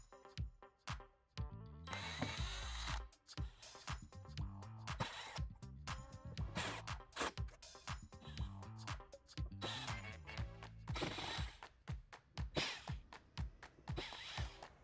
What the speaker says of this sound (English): Now we can remove this trim piece by removing these screws all the way around the edge.